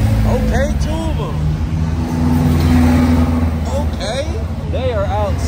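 A turbocharged car accelerates along a busy downtown Waikiki street at night, its engine rising loudly and steadily against constant traffic and city rumble, with voices around it.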